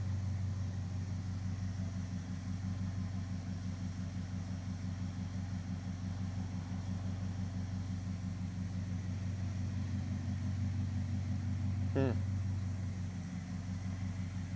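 Dodge Charger crew cab engine running at a steady, even idle, a close low rumble with a rhythmic pulse throughout and a brief higher squeak near the end.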